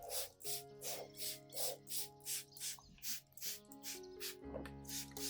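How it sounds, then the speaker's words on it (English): Repeated short bursts from a spray bottle misting a ZZ plant's stems and leaves, about ten in a steady rhythm, close by over a faint background hum. "gently mist a thin layer of the solution from the base and stems to the foliage"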